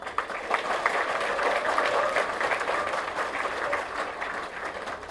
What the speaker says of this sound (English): Can we have our applause louder?